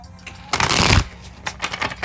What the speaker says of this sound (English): I know I've been shuffling these cards for a minute